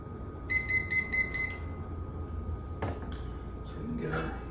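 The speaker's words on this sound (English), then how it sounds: "our timer is about to go off" A kitchen timer going off during the steeping-grains step of a one-gallon Dead Ringer beer brew gives a quick run of sharp, high beeps over a steady background hiss, followed by faint clatter.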